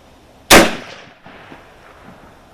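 One loud, close rifle shot booms from a Kar98k Mauser sporter firing a Hornady 170-grain round-nose handload, its sharp crack trailing off into a brief echo across an outdoor range.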